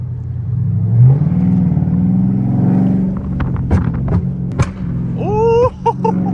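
Loud traffic of cars passing on a busy road, a constant heavy rumble with engines revving and swelling close by, a few sharp clicks and a rising whine near the end.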